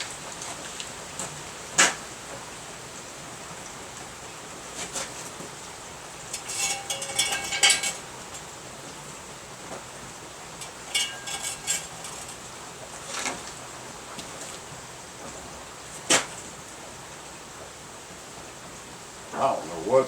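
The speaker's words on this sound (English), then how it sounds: "We got some serious rain today." Heavy rain pours down as a constant broadband hiss, moderately loud, punctuated by scattered knocks and clattering taps.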